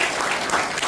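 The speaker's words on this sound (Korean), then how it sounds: "우리 최현실 박사님께 다시 한번 박수 부탁드립니다" Dense, steady applause from a room of students thanking a guest lecturer at the close of an architecture special lecture, an even wash of many hands clapping with no voices above it.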